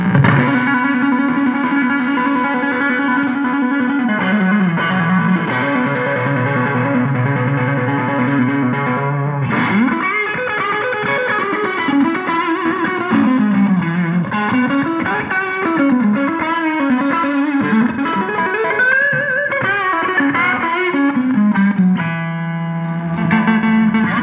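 A 1979 blonde Fender Stratocaster played on its neck pickup through a 1960s Fender Twin Reverb amp, sounding loud and sustained with melodic single-note lines and chords, shimmering reverb and a slightly overdriven tone, no talking.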